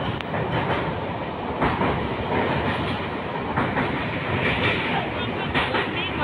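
The Madurai–Howrah superfast express rolls into Howrah Junction at night with a continuous loud rumble and rhythmic wheel clatter over the rails, heard from on board.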